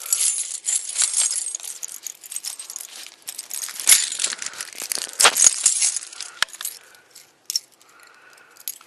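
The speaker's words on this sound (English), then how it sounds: "Find the right key." A bunch of car keys for a Crown Vic jingles and clinks in bright metallic bursts, close by and continuous for several seconds, with a few quieter pauses near the end.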